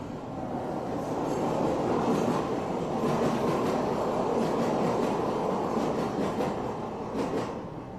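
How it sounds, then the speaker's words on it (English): A train rolls past continuously for the full stretch, a loud, steady rumble of rail cars with faint clatter and wheel noise, close by and uninterrupted. "hold on, this train going by"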